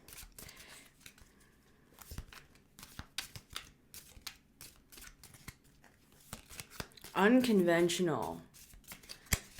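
A deck of cards for a reading is shuffled in quick bursts of riffling and flicking near at hand, followed by a brief spoken word.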